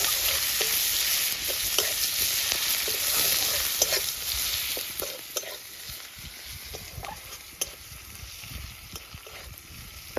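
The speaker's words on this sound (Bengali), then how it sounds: "আর একটু হালকা নাড়িয়ে এটাকে হালকা করে একটু রেখে দেবো।" Katla fish pieces with ridge gourd sizzle steadily in a frying pan while being gently stirred, with frequent scraping taps of the spatula across the ten seconds, loudest at first and settling slightly later.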